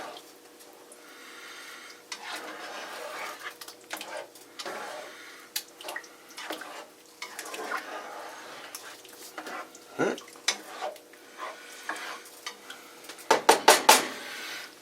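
Spoon knocking and scraping in a pot of creamy coconut chicken curry, soft intermittent clinks through the clip ending in a quick burst of sharper knocks, with no talk.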